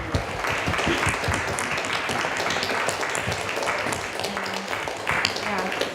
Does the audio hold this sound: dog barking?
no